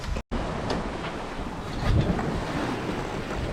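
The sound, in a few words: sailboat sailing wing-on-wing in rolling sea and wind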